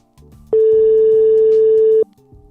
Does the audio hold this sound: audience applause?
no